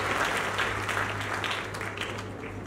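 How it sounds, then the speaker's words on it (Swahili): A church congregation claps steadily, a dense wash of applause that eases slightly toward the end, with a low steady hum underneath and faint voices. "Wapi makofi yao tafadhali?"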